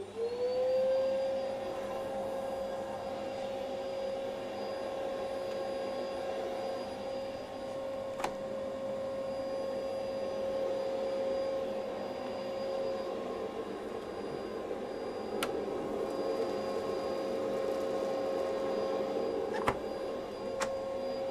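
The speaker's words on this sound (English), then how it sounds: "Right, Hoover going on." A Hoover vacuum cleaner in a workshop runs steadily for over twenty seconds, a constant whining drone with a fixed tonal hum, close and unbroken, with only a few faint clicks.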